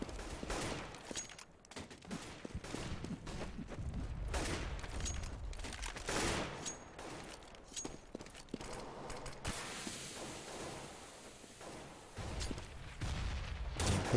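Gunfire during a Counter-Strike match, including an AWP sniper rifle, a dense stretch of repeated shots and bursts with footsteps.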